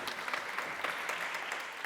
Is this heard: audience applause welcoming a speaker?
yes